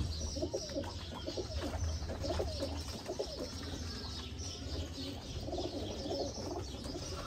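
Soft, low cooing from pigeons repeats through a faint, steady background hum, with a few light chirps mixed in.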